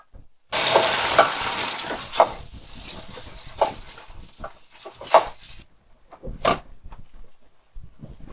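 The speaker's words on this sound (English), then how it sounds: "as soon as it gets hot, we start putting our patties in" Hamburger patties for Persian-style burgers go into a hot pan and start frying, a bright sizzle bursting in then fading, with intermittent clatters and pan knocks as cooking continues nearby.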